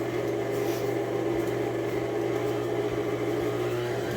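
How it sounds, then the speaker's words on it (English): An electric mixer whirs steadily and continuously as it beats banana bread batter, a close, even motor drone with no pauses. "I will go ahead and start to mix this"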